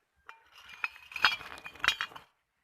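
Glass bottles being sorted by hand into crates for recycling sale give a few quiet, light clinks and knocks over about two seconds, with no talking.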